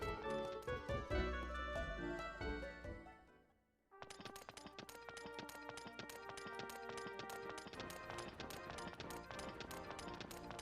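Horse hooves clip-clopping in the PS2 game Suikoden III, a rapid steady patter of light footfalls running throughout, alongside layered game music.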